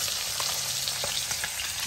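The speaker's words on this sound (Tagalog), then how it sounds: "Tapos ito yung ating tilapia. Prito natin." Tilapia fries in a pan with a steady, dense crackling sizzle and scattered small pops, heard close up with no talking.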